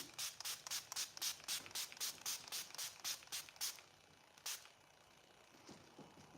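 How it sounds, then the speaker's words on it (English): A rapid burst of about a dozen short, hissing spritzes from a makeup setting spray bottle, close by, then a pause and one final spritz. "Now I'm setting it with my spray."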